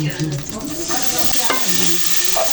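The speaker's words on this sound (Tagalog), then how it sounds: "Umpisahan ko ng igisa ang pork." Pork sizzles loudly as it is sautéed in a hot pan for bitter melon stir-fry, a continuous crackling hiss with a few scraping stirs and no talking.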